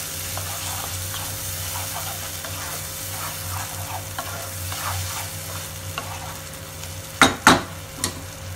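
A spoon stirs yogurt into prawn masala gravy simmering in a pan, making soft repeated scraping and bubbling over a low sizzle, ending in a few sharp knocks of the spoon against the pan.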